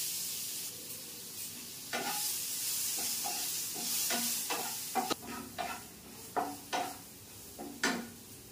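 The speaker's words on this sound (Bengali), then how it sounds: "পনিরগুলো এর মধ্যে দিয়ে আমি একটু ফ্রাই করে নেবো" Paneer pieces fry in a pan for chole, a low background sizzle overlaid by repeated clattering knocks and scrapes of a spatula turning them, growing more frequent toward the end.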